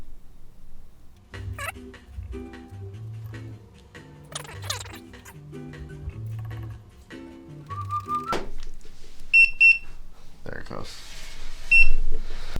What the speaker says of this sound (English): You wait for 2 beeps followed by 1 beep.